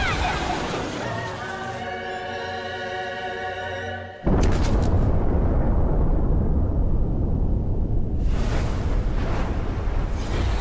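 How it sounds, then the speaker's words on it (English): An anime magic-spell explosion begins with a rising, shimmering harmonic charge-up, then bursts into a loud, sustained roaring blast with crackling debris that lingers for several seconds. "Explosion!"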